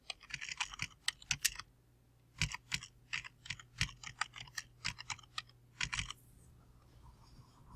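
Close, quiet clatter of keys as a file name is typed on a computer keyboard, in uneven bursts of rapid taps with brief pauses, ending in a faint hum and no talk.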